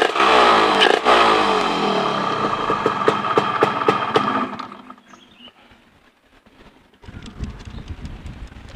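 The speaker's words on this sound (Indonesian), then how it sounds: "Kita panaskan dulu mesinnya." Motorcycle engine warming up with its carburetor being cleaned, a loud close rumble of rapid firing pulses that fades out partway, followed by quieter mechanical ticking and hissing.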